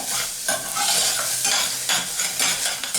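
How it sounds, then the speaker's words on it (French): Shallots stirred in a very hot frying pan: a loud, close sizzle with repeated bursts of scraping spatula strokes every half second or so, no voices. "Donc on les remue un peu."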